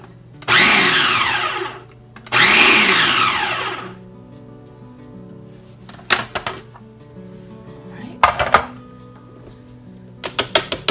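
A kitchen blender mixing keto bread batter runs in two long whirring bursts, then gives several short sharp pulses with quiet gaps between them, loud and close.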